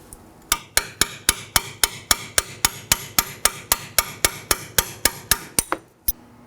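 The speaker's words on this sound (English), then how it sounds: "I'll be using a chisel and hammer." Hammer drives a chisel against the brake hose clip on the front strut of a 2013-2019 Nissan Sentra, giving about twenty sharp metallic strikes at a steady quick rhythm, close and loud, with one last isolated blow after a short pause.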